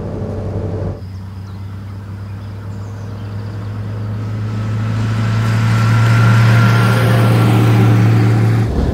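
A 1936 Mercedes 500K Spezialroadster's engine drones steadily during a test drive, a loud low hum that briefly dips and then rises into a stronger, even pull as the car moves along, with no talking.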